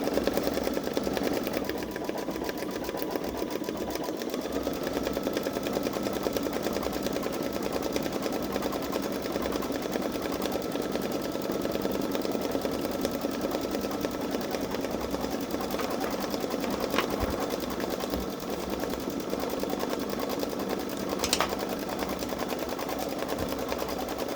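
A Babylock Solaris Vision embroidery machine stitching a patch runs as a fast, continuous mechanical whir with rapid needle chatter. The rhythm stays loud and steady for the whole stretch, with a few brief clicks near the end.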